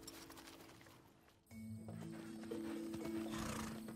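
A newborn black-and-white miniature horse foal gives a faint, short whinny-like call after a sudden shift in background noise, with soft rustling and a steady low hum.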